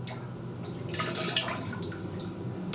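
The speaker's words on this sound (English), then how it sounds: "this is actually Lactobacillus, which I am going to add in now into my wort" Lactobacillus culture is poured into beer wort for a kettle-soured Berliner Weisse, giving a soft, close, steady liquid trickle and splash with faint dripping.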